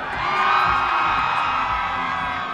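Loud crowd cheering at a BYU versus Saint Mary's rugby event rises to a peak and holds, with many voices yelling and whooping as they choose a winner.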